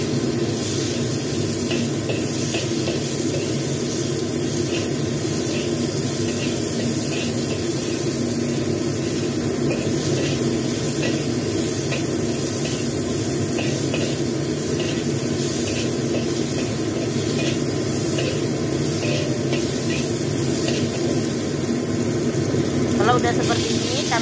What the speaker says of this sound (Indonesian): Tambahkan cabai paprika merah tadi teman-teman. Tumis hingga sampai dengan layu.